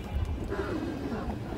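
Large female pigeon giving a soft, low coo that wavers slightly, faint against a noisy background.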